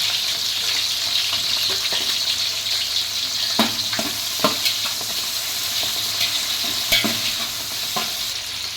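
Onions and green chillies frying in oil for a jackfruit biryani, a steady loud sizzle with repeated scraping stir strokes and spoon knocks throughout, no talking.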